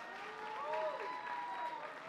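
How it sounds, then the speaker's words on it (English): Stand-up comedy club audience applauding at a sold-out show, soft continuous clapping that sounds somewhat distant, with a faint tonal hum running through it. "Give you guys a round of applause."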